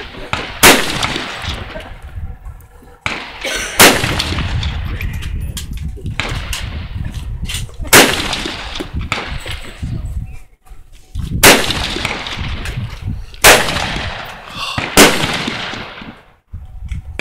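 SKS rifle fired outdoors, about seven sharp, loud shots at irregular intervals. Each crack echoes with a booming tail, and a few voices are faintly audible between the shots.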